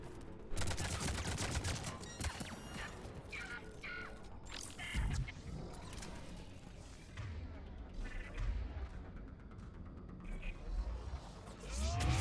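Shooting in Mass Effect 3 Legendary Edition: scattered bursts of gunfire and heavy impacts, fairly quiet overall, with a voice talking over the combat at points.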